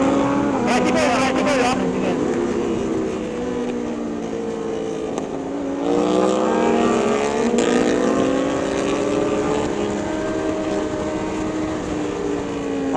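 A car goes past a Suzuki GSX-R1000R sport bike on a road, its engine rising and falling beneath the motorcycle's steady loud engine drone and wind roar, with voices talking over it.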